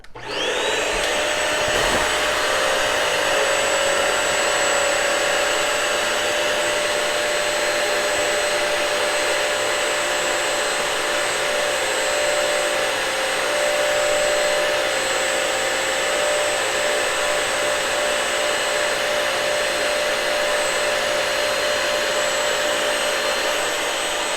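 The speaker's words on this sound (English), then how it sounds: "you're going to need to recline the handle back so the machine and the brush actually kicks on" A Bissell Crosswave Pet Pro floor cleaner runs its brush self-cleaning cycle with its handle reclined, a loud, steady motor whine and airy roar that start abruptly and hold unbroken throughout.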